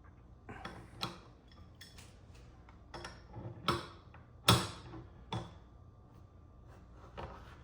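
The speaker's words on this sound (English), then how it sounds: "You wanna twist this ring off." Plastic ring being twisted counterclockwise off a Delta 4353 faucet during a drip repair, giving scattered small clicks and ticks at close range, quiet with a few sharper snaps.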